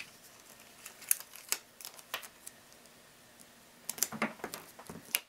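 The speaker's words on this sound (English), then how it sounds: "So I put double stick tape along each edge." Double-sided tape laid along the edges of embroidered scrapbook card paper, giving quiet scattered crinkles and ticking taps close by and with no one talking.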